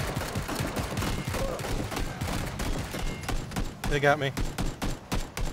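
Gunfire in PlayerUnknown's Battlegrounds, with dense bursts of shots running under excited talk between players, then a sharper cluster of loud reports near the end.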